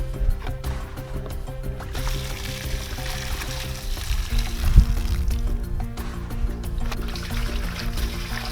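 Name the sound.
water poured out of spray tank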